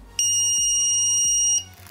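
A gas-sensor buzzer on a fire fighting robot project beeps after it detects LPG from a lighter: a loud, steady, high-pitched electronic tone sounding alone for over a second.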